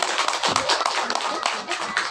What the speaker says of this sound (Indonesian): Tepuk tangan ke panjenengan.